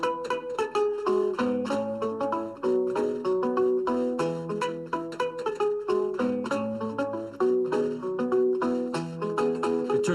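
National resonator guitar muted to imitate a homemade African guitar, plucked in a steady, bright, repeating pattern of damped, percussive notes over a low bass line, close and continuous with no speech.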